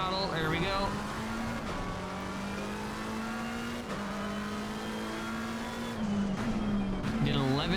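GT race car in Assetto Corsa Competizione under throttle, its engine droning loudly at high revs with quick pitch drops as gears change near the start and again near the end, a voice talking over it.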